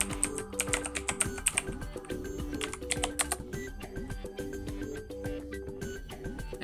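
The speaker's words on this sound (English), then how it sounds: "so we need to enter the password." Someone types a password on a computer keyboard, the key taps close and steady over music playing throughout.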